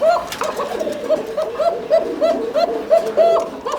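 A pigeon coos in repeated soft, throaty calls, close and fairly clear at a pigeon market, with a few other birds faintly around.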